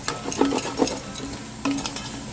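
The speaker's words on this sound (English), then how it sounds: "once that's sauteed up a little bit more" Short ribs cooking low in a pan, a gentle sizzle under a few scraping stir strokes and light utensil clinks against the pan, close and fairly quiet.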